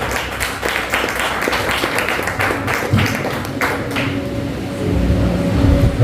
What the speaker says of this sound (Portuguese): As palmas é para Jesus.